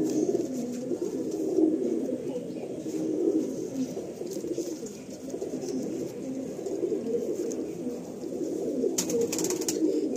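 Pigeons in a loft coo steadily, low throaty calls overlapping close by in a continuous murmur, with a brief rustle near the end and no talk.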